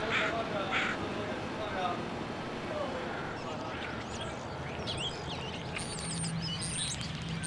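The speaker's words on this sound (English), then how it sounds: "Another city bird, the northwestern crow, is normally a bird of the beaches and foreshore." Northwestern crows caw in a city, a few harsh calls coming faintly from a distance over steady urban background rumble.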